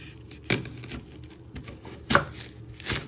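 A knife chopping through an onion on a board, three sharp, separate thuds spaced about a second apart, close and distinct against quiet kitchen background.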